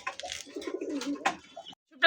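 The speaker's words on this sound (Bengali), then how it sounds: "দর্শক এই মুহূর্তে দেখতে পাচ্ছেন খুব সুন্দর এক জোড়া মাক্সি গোল্লা কবুতর" A pair of Maxi Golla pigeons coo in soft, low rolling phrases, close by and moderately loud, with a brief quiet gap before a sharper sound at the end.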